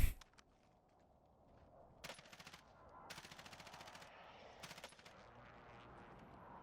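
AK rifle fire in the Warzone video game, several bursts of rapid automatic shots, crisp and fairly close, separated by short pauses over a quiet background.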